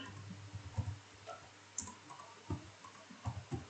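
Supplier name being typed on a computer keyboard: a run of light, irregular key clicks with short pauses, close and fairly quiet, with no talking.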